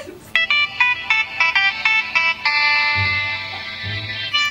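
A mobile phone plays a melodic ringtone, a run of bright repeated chiming notes near and clear, with a low murmur of background noise partway through.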